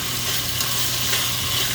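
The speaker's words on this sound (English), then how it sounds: "We let it fry 3-4 minutes" Oxtail frying in a pot before braising gives a steady hissing sizzle that stays loud and even throughout, with no voices.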